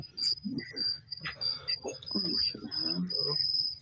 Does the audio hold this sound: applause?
no